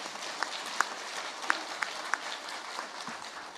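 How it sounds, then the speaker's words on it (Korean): Scattered audience clapping at a political party debate forum in a national assembly hall, a thin patter of hands with a few sharper individual claps standing out, fairly faint. "이런 때는 박수 한번 나와야 되는데요."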